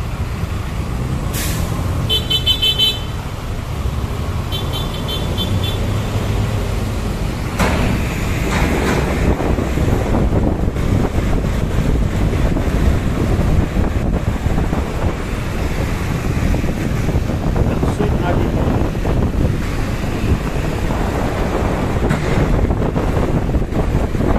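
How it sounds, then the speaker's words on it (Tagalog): Steady, loud wind buffeting the microphone while riding a motorbike along Lacson Avenue, Manila, with a brief hiss of an air brake near the start and constant traffic rumble underneath. "Mahangin tayo ngayon kabayan kasi nakamotor lang tayo"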